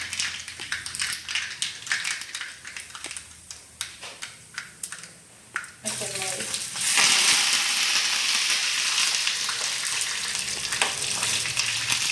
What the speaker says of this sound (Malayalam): കടുക് പൊട്ടി തുടങ്ങിട്ട് അപ്പോൾ